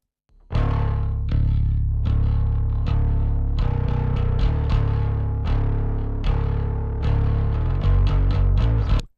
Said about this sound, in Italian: Facciamo un blend tra il suono pulito che abbiamo creato e la distorsione.